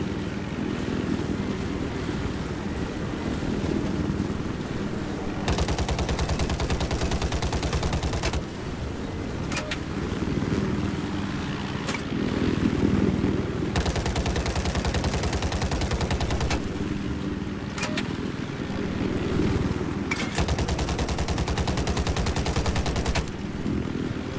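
A vehicle's 25mm cannon in Battlefield 4 fires in long, rapid bursts of heavy thudding shots, broken by short pauses, over a steady engine rumble.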